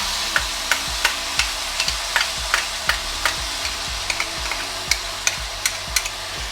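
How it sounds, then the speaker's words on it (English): Soy sauce sizzles on chow mein noodles frying in a pan, a steady loud hiss punctuated by regular sharp scrapes and taps of a utensil tossing the noodles roughly every half second, with no talking. "As soon as the sauce hits the pan, it's going to cook up and help release more flavors from the sauces."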